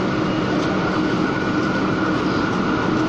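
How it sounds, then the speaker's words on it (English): Calgary CTrain SD160 light rail car on the Blue Line, westbound toward 69th Street, passing close by at City Hall Station, a loud steady rumble and rush of wheels and motors running the whole time with no talking. "I'm gonna watch the C train go."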